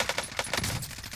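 A quick burst of gunfire in Warzone, several rapid shots spaced close together at moderate distance, brief and fairly faint.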